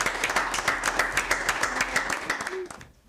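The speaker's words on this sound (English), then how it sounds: "Let's give them a round of applause." An audience applauds the winners of a student debate challenge, brisk close clapping that holds for a couple of seconds and then quickly fades out.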